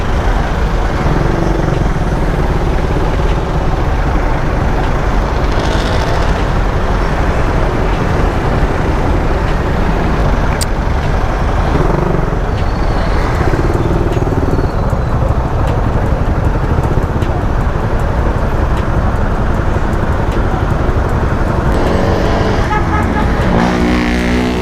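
Night road traffic heard from a Raider 150 motorcycle with a carburetor riding between Bacoor and Dasmariñas, Cavite: a continuous loud engine and wind roar with passing vehicles rising and fading, no voices.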